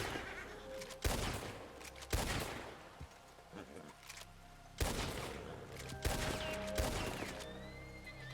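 Several gunshots ring out in Red Dead Redemption 2 (RedM roleplay), sharp loud cracks spaced irregularly about a second apart, each with a reverberant tail, over faint background game ambience.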